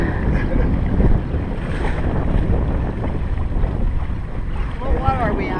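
A sailboat runs on Galveston Bay in the wind, with steady loud wind buffeting the microphone over water rushing and slapping against the hull, and a faint voice near the end.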